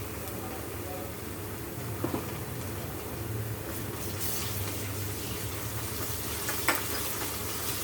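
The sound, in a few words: ginger garlic paste frying in pan for fish curry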